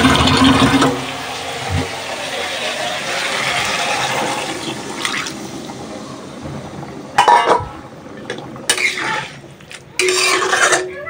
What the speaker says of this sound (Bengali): ঝোলের জন্য পানি দিয়ে দিব।